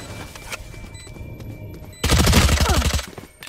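Gunfire in a competitive video game match: a sudden loud burst of rapid shots erupts after a quieter stretch with faint clicks, then fades out.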